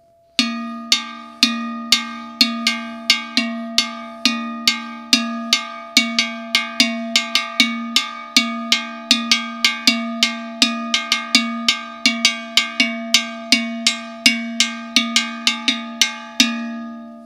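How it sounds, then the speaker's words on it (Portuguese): An agonguê, the large iron double bell of maracatu, rings out in a steady, syncopated rhythm of bright metallic strikes with lingering overtones, played loud and close with no talking over it. "Esse é o som do agonguê dentro do maracatu."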